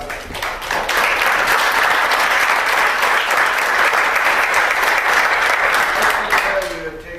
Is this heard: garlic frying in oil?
no